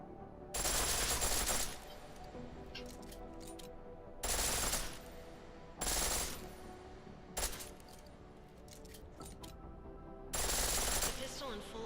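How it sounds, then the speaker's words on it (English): A pistol firing in full auto in Deus Ex: Mankind Divided, loud bursts of rapid shots in about four separate strings with quieter gaps of game ambience between them. "The pistol in full auto will take down targets fast, but it'll burn through your ammo."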